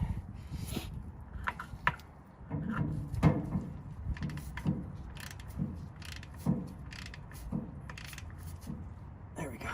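Ratchet with a 1/2 inch extension snugging the differential fill plug on a 1978 MGB, giving a series of short, close mechanical clicks and knocks spread irregularly over about ten seconds, fairly quiet.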